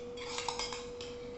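A metal spoon clinks several times against a container as a spoonful of cooking oil is added, quick bright taps in the first second, fairly faint and close, with a steady background tone.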